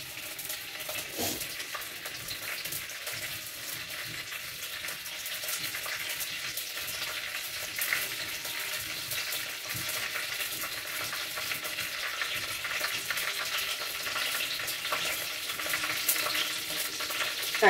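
Mustard seeds splutter in hot oil, a continuous crackling sizzle with scattered small pops, steady and fairly close throughout with no talk.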